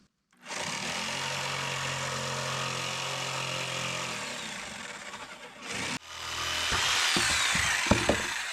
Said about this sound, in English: do I hook up the circular saw real quick? Let's see how fast this cuts